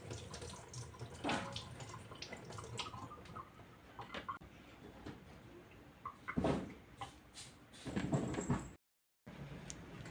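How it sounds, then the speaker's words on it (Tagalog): Water runs from a household tap in the morning, a steady wash with splashes and clatter of items, a brief dropout near the end. "Lagas ng tubig pag umaga."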